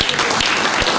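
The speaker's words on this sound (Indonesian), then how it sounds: "Tepuk tangan untuk Adrian." Brief burst of audience clapping for a person at a radio summit gathering, dense and loud throughout with no voices over it.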